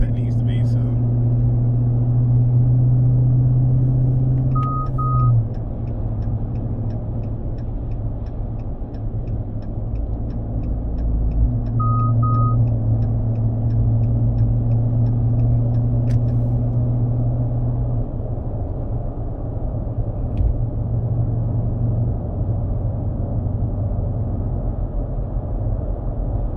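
Dodge Charger cruising on the interstate after a 180° thermostat install, steady interior road and engine drone with low hum throughout, a few faint ticking chimes, no voices.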